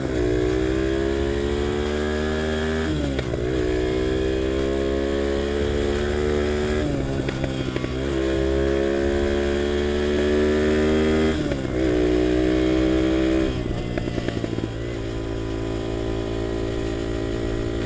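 A revived UM DTF 150 dirt bike rides along with a steady, loud engine drone, the pitch climbing then dropping at several gear shifts every few seconds.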